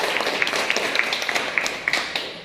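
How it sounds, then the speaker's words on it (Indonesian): Classroom applause from pupils for a student named Najwa, a steady patter of many small hands clapping at moderate volume, with no voices over it. "Tepuk tangan buat Najwa"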